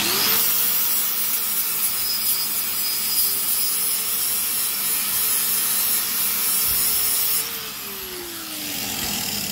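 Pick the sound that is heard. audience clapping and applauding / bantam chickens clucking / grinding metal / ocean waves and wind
grinding metal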